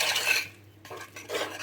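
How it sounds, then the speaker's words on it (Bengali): A spoon scrapes and stirs thick palm pitha batter around a bowl in two short bursts with a brief pause between, close and fairly loud, no voices. "আমার ব্যাটারটা হয়ে গেছে, আমি আর একবার ভালোভাবে এটা মিশিয়ে নিচ্ছি।"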